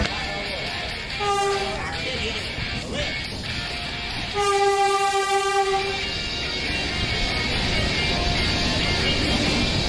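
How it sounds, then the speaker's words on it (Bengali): Saraighat Express pulling into platform 3 at Rampurhat station, with two loud horn blasts, a short one then a longer one, over steady rumble of the train rolling in. "ট্রেন এসে পৌঁছালো রামপুরহাট স্টেশনের 3 নম্বর প্ল্যাটফর্মে।"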